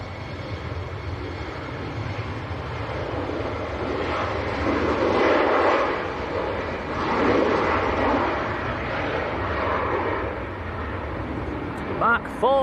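A KLM airliner bound for Amsterdam roars at Leeds Bradford Airport, a broad sustained engine rumble that swells in the middle and eases off, with people talking over it.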